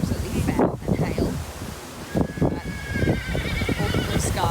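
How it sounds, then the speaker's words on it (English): Gusty wind buffeting the microphone in low rumbling bursts, with a horse whinnying briefly in the background. "The weather's just got really windy."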